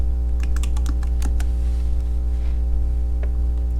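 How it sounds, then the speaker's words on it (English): A computer keyboard being typed on into a search bar, with a quick burst of close, crisp key clicks followed by a few scattered taps, over a constant low electrical mains hum. "So if I go up into Creativefabrica into the search bar and type Santa"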